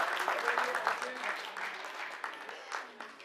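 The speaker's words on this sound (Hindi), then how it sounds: "तालियां आप लोग गड़गड़ाते रहिए" Applause at a community gathering as local people are honoured one by one as coronavirus warriors, moderately faint clapping that rises and falls in uneven bursts, with background voices from the crowd.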